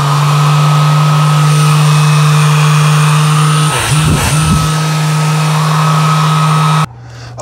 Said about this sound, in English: This is the pet tool that it has an electric motor in there that's going to get power from the battery.